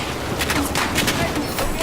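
Rapid bursts of SCAR rifle fire in a multiplayer shooter crackle in quick uneven volleys at mid distance, mixed with other battlefield noise.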